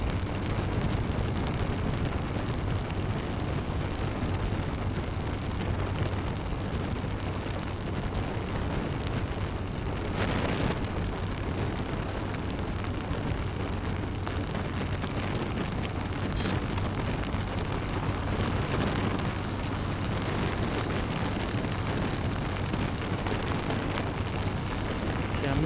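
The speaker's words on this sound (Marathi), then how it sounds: "हा तर पाऊस तर काहीच नाही." Steady rain pours during a motorcycle ride on the NH66 highway from Mumbai to Mahad, a constant loud wash of rain and wind noise throughout with no talking.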